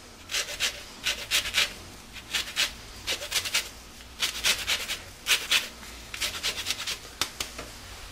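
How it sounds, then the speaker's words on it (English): Orange zest being grated, a close series of quick rasping scrapes in short rhythmic bursts with brief pauses between them, while blackberry waffle batter is prepared. "add the rest of the zest from the same orange."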